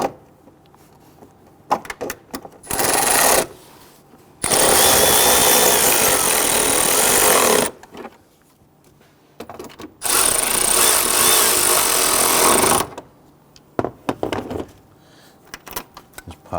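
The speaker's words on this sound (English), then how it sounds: "Install your upper bolts. We'll snug those down." Power tool snugging the upper bolts on a power steering pump of a 2008-2013 Infiniti G37, two long loud whirring bursts separated by short clicks and quiet gaps.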